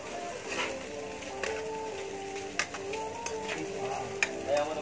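Rice frying in a pan for Filipino garlic fried rice (sinangag), with a steady soft sizzle and scattered scraping clicks of a utensil stirring it, fairly quiet and close.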